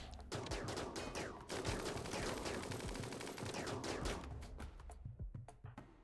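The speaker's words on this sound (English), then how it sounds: "They're just shooting at Bibor" Rapid, dense gunfire crackles through a RimWorld raid, a near-continuous volley of overlapping shots that holds steady before thinning to scattered bursts at the end.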